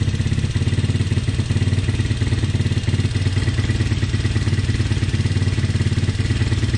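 A motorcycle engine idles with a steady, loud chugging pulse while its carburetor idle setting is adjusted, running rough and uneven as it nears stalling.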